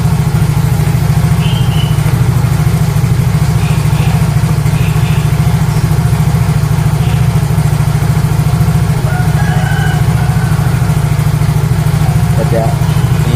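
Motorcycle with DC ignition idling steadily at close range, a constant low engine rumble running unbroken through the whole stretch, with faint clicks and other small noises over it.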